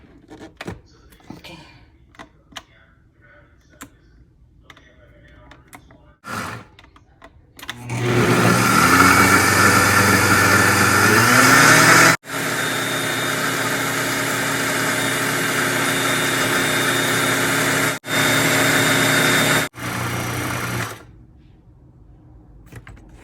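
A mixer grinder whirs loudly through a batch of fresh garden mint chutney with a little water, starting abruptly after some quiet rustling, running steady for about twelve seconds with two brief pauses, then stopping.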